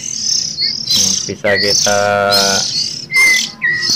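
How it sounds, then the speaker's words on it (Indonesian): Oriental magpie-robin chicks make loud, close, rapid chirps and squawking begging calls during hand feeding. The calls come in repeated bursts, with a brief bit of speech among them. "Ketika burung banyak bersuara atau mengeluarkan kicauan, bukan kicauan sebenarnya, suara cindil"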